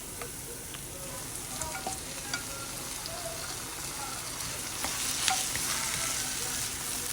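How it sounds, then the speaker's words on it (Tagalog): Ground turkey and onion sauté in a pan for turkey spaghetti, a steady soft sizzle with occasional scraping stirs and light clinks, close and moderately quiet. "Gisa lang natin yan. Hanggang sa mag-brown."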